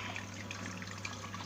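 Ammonia being poured into an aquarium, a faint steady trickle of liquid over a constant low hum from tank equipment.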